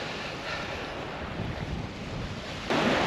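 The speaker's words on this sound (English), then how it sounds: "Oh, it's the sound of the sea." Sea waves wash onto the Northumberland coast in a steady broadband roar mixed with wind buffeting the microphone, swelling slightly louder near the end.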